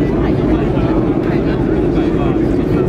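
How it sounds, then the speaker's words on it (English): Simulated aeroplane noise played at a Sony noise-cancelling earphone demo at the IFA trade show: a loud, steady, dense engine-like roar that stays constant throughout. "I'm going to simulate the sound of an aeroplane by pressing this button."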